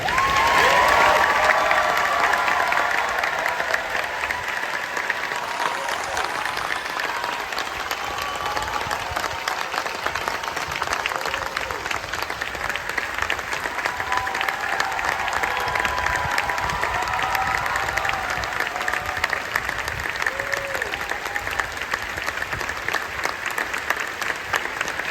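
A crowd at a Disney's Hollywood Studios 35th anniversary show applauds cast members in a sustained, even roar of clapping with some cheering, lasting throughout without a break.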